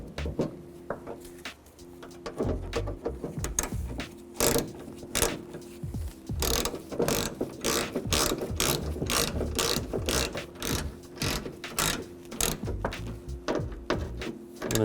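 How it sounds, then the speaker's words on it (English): A ratchet turns a T30 Torx socket to tighten screws, giving rapid, close clicking pawl bursts in repeated strokes with brief pauses, fairly quiet and alone. "And I'll take my T30 Torx socket and a ratchet,"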